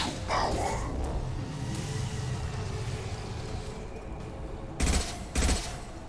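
Video game battle gunfire from impact shots: a low rumble of combat gives way to two sharp, loud bursts near the end, each standing out clearly above the background.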